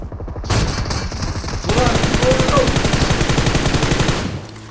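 Rapid automatic gunfire in the mobile battle royale game PUBG Mobile, a dense continuous burst of shots that starts sharply, intensifies midway and fades out at the end, with no talk over it.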